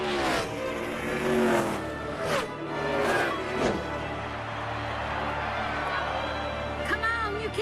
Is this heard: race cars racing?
yes